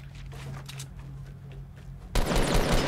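Gunfire in Fortnite Battle Royale, with a burst of loud, dense shots erupting near the end after a quieter stretch of muffled game ambience.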